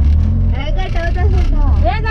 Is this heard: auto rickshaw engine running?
yes